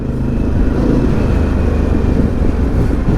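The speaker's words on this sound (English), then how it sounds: "And the way the exhaust sounds, damn it. It's the sound you would be expecting from a Harley-Davidson" Harley-Davidson Pan America motorcycle exhaust while riding, a steady deep low rumble held loud and close throughout, with wind noise over it and no talking.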